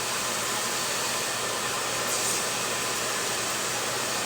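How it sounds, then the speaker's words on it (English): A handheld blow dryer drying hair during a balayage styling session roars steadily and loudly up close, a constant airy whoosh with no pauses. "I start with the blow dryer this way"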